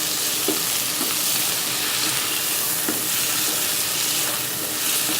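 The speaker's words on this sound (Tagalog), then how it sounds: "Hayaan muna natin maprito-prito tong chicken bago natin isunod yung ibang ingredients." Chicken pieces fry in a hot pan with a loud, steady sizzle and hiss, close by. Faint clicks of stirring sound under the constant crackle for the whole stretch.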